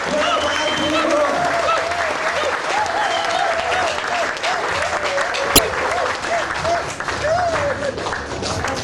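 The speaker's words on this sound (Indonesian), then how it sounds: "kita sambut dengan tepuk tangan yang meriah Bapak Insinyur Ardi Nugroho" A large audience gives loud, lively applause to welcome Ir. Ardi Nugroho, continuous dense clapping for the whole stretch, with a voice speaking over it and a sharp click partway through.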